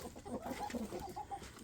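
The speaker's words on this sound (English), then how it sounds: "So I'm out here with my chickens." Backyard chickens cluck softly and fairly close, with a quick run of short, quiet clucks and low murmuring notes over a faint outdoor background.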